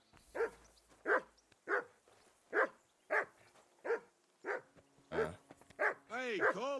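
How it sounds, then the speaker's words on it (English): A dog in Kingdom Come: Deliverance II barks about nine times in an even rhythm, each bark sharp and mid-loud, then breaks into a drawn-out whining yelp at the end. "Call off that mutt of yours!"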